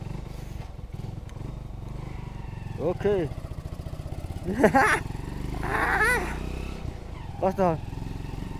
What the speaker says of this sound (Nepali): आवाज त बाइकको आउँछ